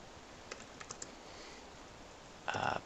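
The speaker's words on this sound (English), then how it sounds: "If I can type today" A few sparse keystrokes on a computer keyboard during a programming session, followed by a brief louder burst of rapid typing near the end, close and fairly quiet.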